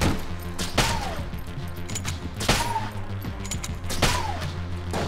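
A medieval-looking gun fires in Enter the Gungeon, three loud blasts spaced about every second and a half, each trailing off into a falling whine over steady game music.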